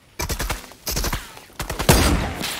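Fortnite gunfire in rapid bursts, several volleys of loud, close automatic shots separated by brief pauses.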